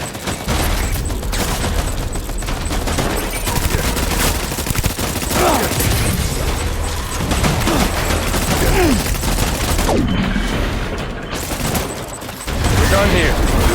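Sustained gunfire in the video game Death Stranding, rapid dense bursts of shots that run almost without pause for the whole stretch, loud and close, with voices shouting over the shooting.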